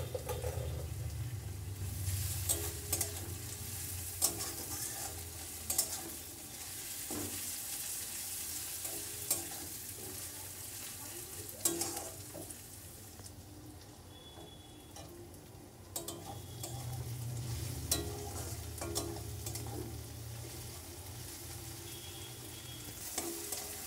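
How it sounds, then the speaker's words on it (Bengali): Garlic fries in a pan for a chicken bharta, with a soft, steady crackling sizzle broken by scrapes and taps of stirring, swelling and easing over a long stretch with no talk. "রসুনটাকে একটু ভেজে নেব।"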